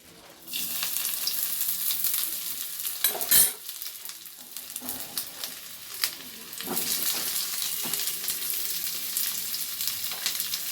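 Onion and garlic sizzle in hot oil in a pan while a utensil stirs them, a steady close frying hiss with scraping strokes and a sharp clatter around the third second.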